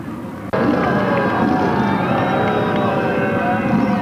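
At Stafford Speedway, after an SK Modified feature race, a crowd applauds and cheers the winner of car number 82. A broad, loud wash of sound bursts in suddenly and holds steady.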